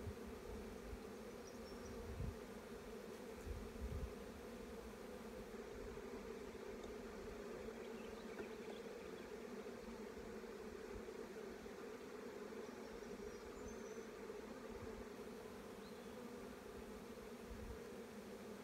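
Honey bees swarm around an open beehive during spring hive management, making a continuous, even droning buzz at moderate, steady level with no talk.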